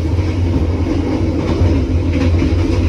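Inside a carriage of the KA Dharmawangsa economy new generation train from Jakarta to Surabaya, a constant low rumble of wheels and car body with a steady hum and faint rattles, no voices.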